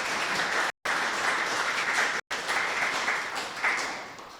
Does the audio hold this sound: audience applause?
yes